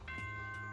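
Short electronic announcement chime from the video game Danganronpa: Trigger Happy Havoc, a soft bell-like tone with steady ringing overtones, faint and alone.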